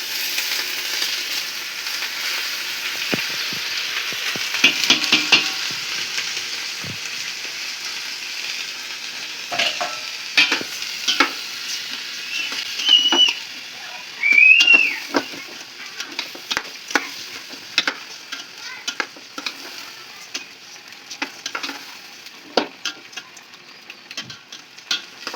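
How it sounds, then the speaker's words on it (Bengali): Polao rice and broiler chicken fry in a pan over medium heat, giving a soft steady sizzle broken by irregular scraping and stirring clicks from a spatula. "এটা মিডিয়াম আঁচে ভাজতে থাকতে হবে অন্তত এটা যতক্ষণ না হাফ ভাজা হয়ে যায়"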